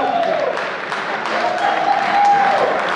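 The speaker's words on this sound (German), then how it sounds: "Svenja auf die Bühne und einen Applaus." Audience applause at an anniversary gala during an honours ceremony, a sustained wash of clapping with a faint tonal hum and some voices mixed in underneath.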